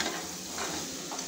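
Mutton curry pieces coated with chili powder are stirred in a pan, giving a soft continuous sizzle with faint scraping of the spoon, nearby and with no talking.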